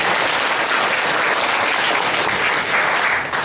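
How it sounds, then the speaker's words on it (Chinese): A church congregation claps together in dense, loud, sustained applause that fills the room for a few seconds, with no talking over it. "阿门，拍手给上帝哦。"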